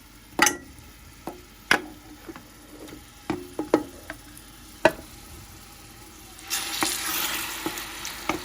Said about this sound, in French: vous mettez votre viande et vous laissez le tout revenir jusqu'à ce que ce soit prêt